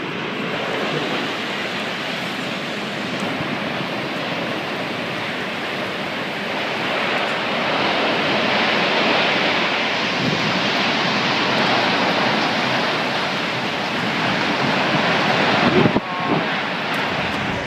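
Devastating tornado winds in Tsukuba, Japan roar as a dense, constant rush of wind noise that batters the microphone and swells slightly midway.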